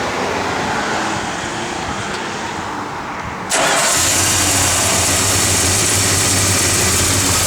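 A 1966 Plymouth Belvedere II's 383 V8 with a mild cam fires up after a low steady rumble, then settles into a loud, even idle that holds close by and alone for the rest of the clip.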